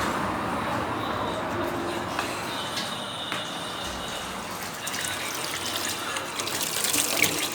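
Hot water runs steadily from a tap fed by an Ariston boiler just repaired after a 105 fault, a continuous moderate gushing splash with no talk.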